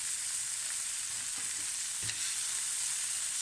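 Onions frying in mustard sauce in a pan after lamb has been cooked, a soft steady sizzle with a couple of faint stirring knocks.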